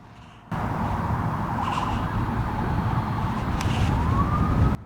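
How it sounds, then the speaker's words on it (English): Distant sirens wail and rise over steady outdoor rumble, with a rising tone near the end; no talking. "I hear a lot of sirens."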